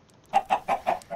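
A chicken in the Minecraft video game clucks five times in a steady, evenly spaced rhythm, clear and moderately quiet with no talking over it.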